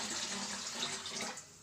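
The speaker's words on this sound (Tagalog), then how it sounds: "Tapos mag-add tayo ng tubig pa." Water pouring into a cooking pot of a soy sauce dish, a brief close splashing stream that cuts off near the end.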